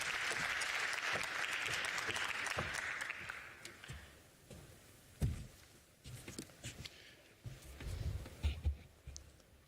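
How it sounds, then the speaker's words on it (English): Audience applause fills the room for about four seconds as a speaker walks to the stage, then fades into scattered claps, shuffling and a few thumps and footsteps. "So if we could give him a round of applause as he makes his way to stage."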